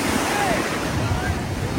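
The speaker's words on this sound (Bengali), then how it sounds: "আজকে প্রচুর জোরে ঢেউ দিচ্ছে" Strong sea waves break and surge at Puri beach, a broad continuous roar of surf mixed with wind buffeting the microphone.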